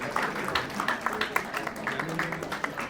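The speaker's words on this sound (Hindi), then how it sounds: "जोरदार तालियों से आप इसका हौसला बढ़ाएं" An audience at a family gathering claps for a young bravery medal recipient, a steady, moderately loud wash of many hands with uneven sharper claps, voices murmuring underneath.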